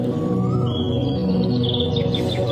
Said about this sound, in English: The chirping of birds in the morning is delightful.